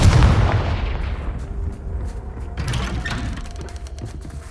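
Confringo fire spell cast in the video game Hogwarts Legacy, a loud booming blast at the start that rolls off into a long rumbling decay with scattered crackles.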